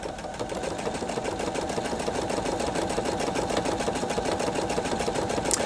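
A Pfaff Creative 3.0 sewing machine runs a buttonhole stitch, a fast, even mechanical whirring and ticking that stays steady and close throughout.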